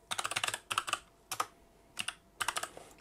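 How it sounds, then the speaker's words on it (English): Computer keyboard typing a command, clusters of quick, crisp key clicks separated by short pauses, close and with no talking. "So what we want to do first of all is type in DISKPART"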